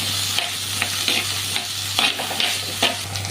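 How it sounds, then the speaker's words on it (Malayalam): Onions and three or four green chillies sautéing in a pan for Kerala prawn curry, a steady close sizzle with repeated scraping stirs at an uneven rhythm, a constant low hum underneath, no talking. "മൂന്നാല് പച്ചമുളക് ഇട്ട് കൊടുക്കാം ഉള്ളി നല്ലതുപോലെ നമുക്കൊന്ന് വഴറ്റിയെടുക്കാം"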